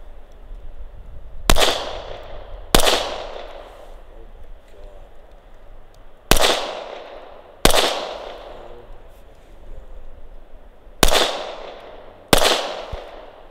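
Glock 19X pistol fired during a shooting drill: three pairs of sharp, loud shots, each pair split by about a second with longer pauses between pairs, every report ringing out briefly.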